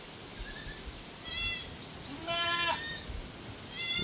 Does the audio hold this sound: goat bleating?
yes